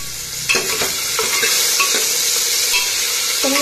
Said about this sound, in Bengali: টমেটোটাকে ভালো করে কষিয়ে নেব